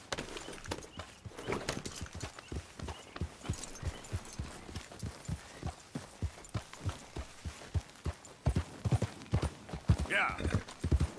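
Horse hooves gallop in Red Dead Redemption 2, a fast, rhythmic stream of close clip-clop beats running steadily throughout, with faint game sounds beneath.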